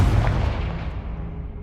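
Confringo blasting spell going off in Hogwarts Legacy, a single loud boom at the onset that rolls into a long, low rumbling decay with no voices.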